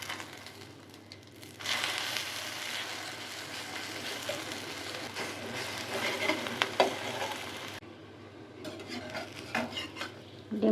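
An egg fries and is stirred in a pan with a steady close sizzle, scraped and clinked by the utensil. The sizzle dips briefly near the end, then the stirring clatter resumes.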